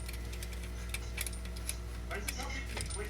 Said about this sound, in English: Why does it sound like a clicking sound?